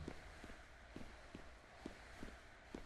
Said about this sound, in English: I can hear my footsteps.